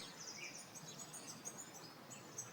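Birds chirp outdoors in spring, small high tweets scattered across a soft constant background, faint and distant, with no voices.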